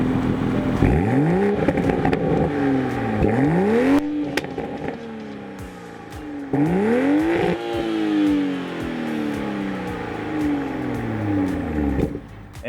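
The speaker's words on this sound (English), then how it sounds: "Such a sweet sounding car." A Toyota GR Supra with a 3.0-liter inline-six and dual exhaust revs repeatedly, each rev rising and falling in pitch with crackles on the overrun, loud and close, with no talking.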